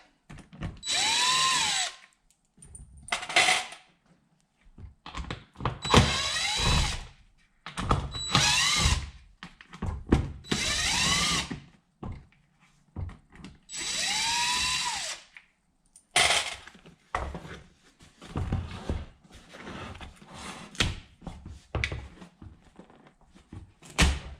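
A power drill backs screws out of a boat seat's brackets in repeated short whirring bursts with pauses between, close and loud, some bursts rising in pitch as the motor spins up, with no speech.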